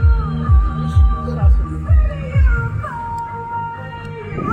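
A cat in Maafushi, Maldives, meows loudly and close in a run of about six rapid, insistent cries, followed by softer drawn-out mewing at night.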